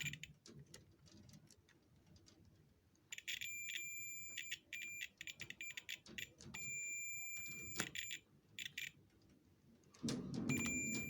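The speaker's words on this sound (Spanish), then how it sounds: "el multímetro cuando está en modo continuidad pita porque hay continuidad" A multimeter set to continuity mode beeps while testing a thermomagnetic circuit breaker, sounding a series of sharp, high electronic tones in bursts of varying length with short gaps between them.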